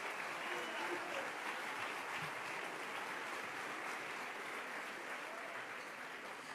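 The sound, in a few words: congregation applause in church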